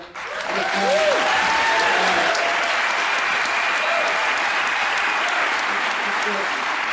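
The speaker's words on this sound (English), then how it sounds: "I don't think we've had a full opportunity to give a round of applause to Steve Edmonston" A town hall audience of the League of Quiet Skies Voters gives a sustained round of applause to Steve Edmonston, broad and steady from the crowd, with voices faintly audible beneath it.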